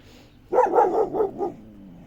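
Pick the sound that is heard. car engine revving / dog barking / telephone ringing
dog barking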